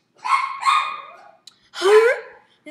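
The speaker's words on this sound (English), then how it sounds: "Shut up, dogs!" Dogs bark in a few close, loud bursts: two quick barks, a pause, then a longer howling bark and a short final yap.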